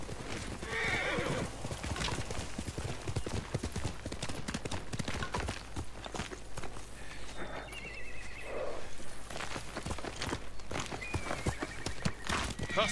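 A horse in the video game Ghost of Tsushima clip-clops with steady hoof beats and lets out whinnies and snorts, fairly quiet, alongside brief game voices.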